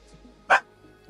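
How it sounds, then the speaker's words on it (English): A pet dog lets out a single sharp bark close by, short and loud against a quiet room. "Why are you barking?"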